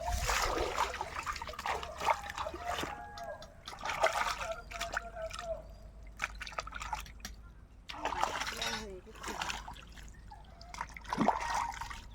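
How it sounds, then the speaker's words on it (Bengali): Bottle gourd leaves are rinsed under water, a continuous trickle and splash of liquid with irregular drips and handling noises, moderately close and steady throughout, with no talk over it. "আমি এখন পাতাগুলো ভালো করে জল দিয়ে ধুয়ে নেব"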